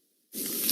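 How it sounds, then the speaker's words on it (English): Silence breaks into a single close, crunchy, squishy bite of a cheesy pizza slice, a crisp advertising sound effect that starts suddenly and carries on as a wet tearing crunch. "Is that the sound of an ooey gooey cheesy crunchy slice of P-I-Z-Z-A?"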